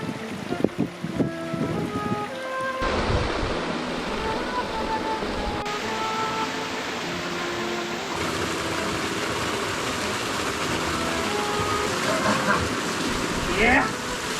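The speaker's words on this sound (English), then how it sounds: "Look how much water there is." Water flowing in the desert along a trail in Jordan, a steady close rush of running water with wind buffeting the microphone, and someone speaking over it briefly.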